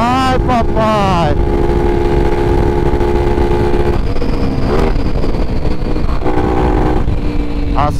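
A Honda XRE 300 motorcycle with a 299cc engine rides at full throttle along an evening corridor, its engine loud and close, climbing through a sharp rev, then holding a steady high drone with shifts in pitch.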